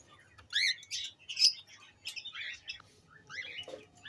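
A cockatiel pair with their chicks chirp in a breeding box, giving a close run of short, thin squeaky calls and tweets in uneven bursts over a quiet background.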